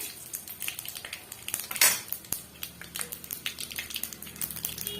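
Mustard seeds splutter in hot oil in a pan, a dense close stream of sharp pops and crackles with one louder burst partway through and no speech.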